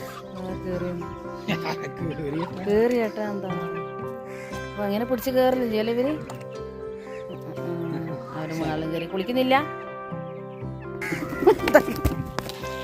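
Hens on a family farm making clucks and short calls, several bursts spread across the clip, fairly close, with a rooster-like call near the end and other background farm sounds.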